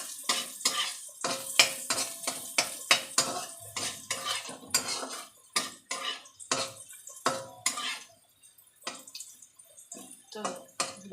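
Bitter gourd pieces fry in a pan for karela dal while a spatula stirs and scrapes repeatedly, giving sharp irregular metallic clatters over a soft sizzle, close and fairly loud, with brief pauses between strokes.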